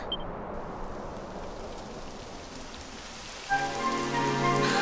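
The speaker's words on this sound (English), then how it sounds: "It would have to go and start raining, wouldn't it?" Steady rain falling in the fantasy RPG Dragon Quest XI: Echoes of an Elusive Age, a constant wash of patter near the listener, joined near the end by a brighter layered tone from the game's music.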